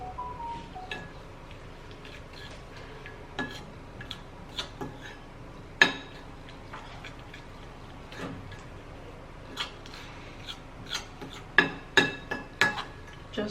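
A utensil scrapes and taps against a dish while baking soda paste is mixed, giving irregular light clinks and ticks that grow busier toward the end, close and fairly quiet, with no talking.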